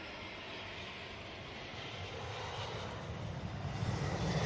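An EasyJet airliner arriving from Geneva at Manchester Airport produces a distant, low jet-engine rumble that swells gradually louder toward the end, heard on its own without talk.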